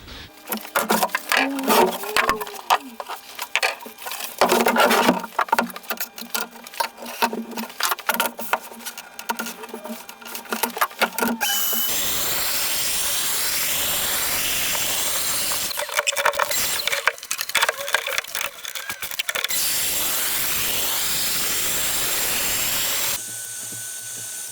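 Shelf pin holes being drilled into cabinet panels in a woodworking shop: bursts of close, loud drilling and machine whir alternate with steadier stretches of motor noise, with no talk.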